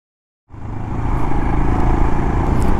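After a moment of silence, a Royal Enfield Scram 411 motorcycle's loud engine rumble starts and holds steady and close on the road, a continuous motor drone with a rough, throbbing texture.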